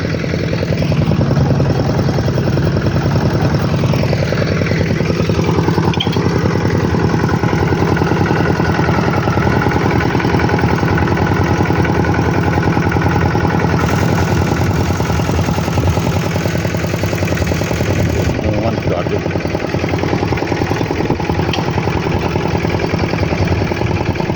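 A small 8-horsepower walk-behind tractor engine idles loudly and steadily at close range, with a constant rattling chug and no pauses.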